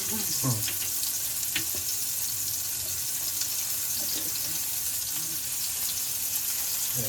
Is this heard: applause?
no